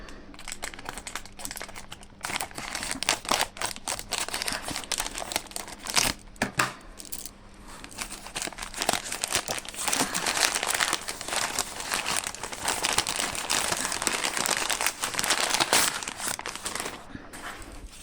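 Gift package from a free-gift online order torn open, with crisp crinkling and tearing of plastic wrapping in steady close-up bursts, a few louder rustles and crunches, and no talk.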